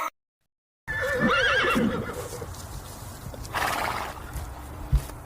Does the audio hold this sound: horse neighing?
yes